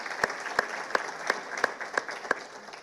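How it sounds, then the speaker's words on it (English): Sparse applause for Maggie Horne at a small business development event, a handful of distinct, evenly spaced claps with a murmuring room behind them. "I think we should give her a round of applause."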